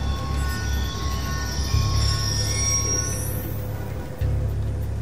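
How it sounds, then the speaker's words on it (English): A train rumbles past in the video game Call of Duty: Black Ops 2, with a steady heavy low clatter of wagons, a high metallic wheel squeal and a rising whine, loud and continuous. "Ain't getting anything else with that train in the way."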